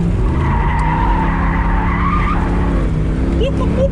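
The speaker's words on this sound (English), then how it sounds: "Speed drift." Tires squeal continuously as a car drifts into a parking spot, a loud, sustained screech over a steady engine roar, with voices faintly mixed in.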